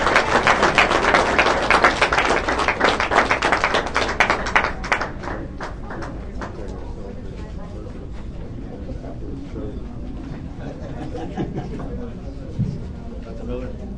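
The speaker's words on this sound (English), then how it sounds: "1 minute applause." Applause at a Board of Education meeting, a burst of many hands clapping that is loud at first and then thins out into scattered claps and room noise.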